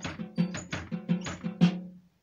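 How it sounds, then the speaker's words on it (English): Snare drum triplet fill played over a bass drum pattern in a drum lesson, with rapid crisp snare strokes in triplet groupings above steady low kick hits, loud and close with no talk. "Add the snare drum triplet fill."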